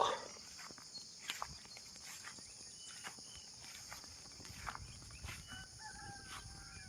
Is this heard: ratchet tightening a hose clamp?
no